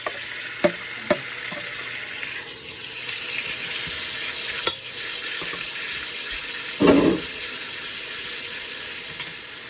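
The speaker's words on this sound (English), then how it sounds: "She also added a chunk of butter and is now adding all of the chicken to the" Chicken pieces frying in olive oil and butter in a pot for a Maftoul recipe, a steady close hiss and sizzle with a few soft knocks and one louder clatter of stirring.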